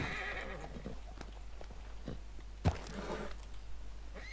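Horse in a Wild West role-play video game, a faint whinny with soft hoof clops and one louder thump, heard over a steady background hum.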